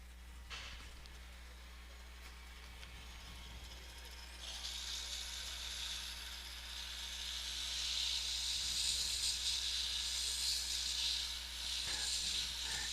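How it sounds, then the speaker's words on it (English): Narrow wood spindles are sanded on a lathe spinning at 1700 RPM, making a steady hiss that swells brighter partway through over a constant low motor hum, with no talking. "you sand at a slower speed, but 1700 RPM is fine for this"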